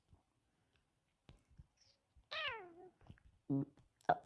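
A single cartoonish cat meow from a Roblox video game sounds mid-clip between scattered clicks and soft, brief sounds. It is clear and fairly close.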